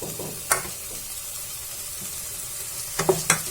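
A spoon stirs dal makhani with fresh green coriander in a hot pan. A few scraping stirs stand out, one early and a cluster near the end, over a soft continuous sizzle, with no speech.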